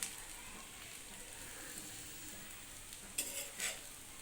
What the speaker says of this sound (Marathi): त्याला मंद आचेवरच परतायचे